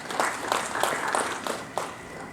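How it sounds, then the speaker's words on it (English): Scattered audience applause at a pump launch event in Zambia as a Vision Fund manager walks up, a modest group clapping in loose uneven bursts that fade toward the end. "Let's give her a round of applause as she comes"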